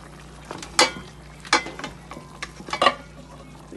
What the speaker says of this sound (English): Let's give it a quick stir.